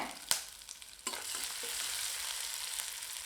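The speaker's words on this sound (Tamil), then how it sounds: "ஒரு வரமிளகா சிறிதளவு கருவேப்பிலை நல்லா வதக்கி விட்டுக்கலாம்" Dried red chili and curry leaves stir-fry in hot oil for a Tamil festival snack, a steady sizzle throughout with a couple of sharp spatula scrapes near the start.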